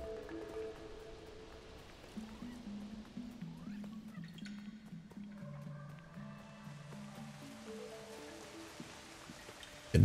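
Steady rain falling in the video game Kena: Bridge of Spirits, a soft, continuous patter with scattered drips under quiet in-game music tones.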